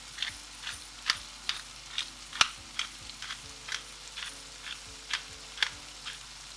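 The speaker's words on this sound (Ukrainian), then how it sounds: "Відправляємо його на пательню і все добре перемішуємо лопаткою кілька разів." Repeated light scraping and tapping of a spatula against a frying pan while stirring eggplant, roughly twice per second, with a faint sizzle underneath.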